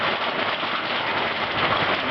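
Heavy rain from a storm in Mapleton, Iowa pours down in a dense, steady hiss of drops hitting surfaces, loud and close with no pauses.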